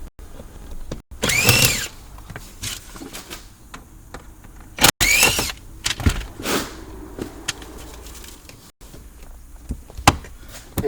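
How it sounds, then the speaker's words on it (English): A power driver backs out T15 Torx screws beneath the dashboard of a Volkswagen Passat, with several short whirring bursts separated by pauses and small clicks and clunks of handling close by. "Underneath the dash, there's T15 Torx screws. We're going to go ahead and we're going to remove all the screws we can get to."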